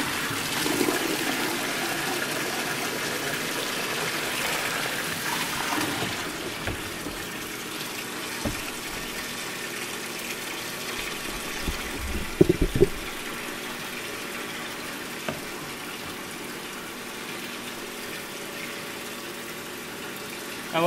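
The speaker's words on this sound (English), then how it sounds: "what I'm going to do is fill this up with irrigation water" Container being filled with irrigation water for an aquaponics pH test, a steady gushing, rushing flow of water close by with a few knocks and thumps midway, then easing to a quieter trickle.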